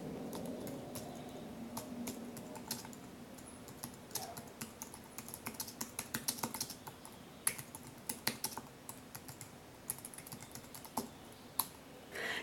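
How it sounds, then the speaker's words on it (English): Steady typing on a computer keyboard for dental charting in Quick Ceph Office software, a run of close, quick key clicks with a few sharper keystrokes, in a quiet room with no talk. "We will make a note of that by typing directly into the box."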